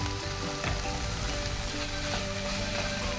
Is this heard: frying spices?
yes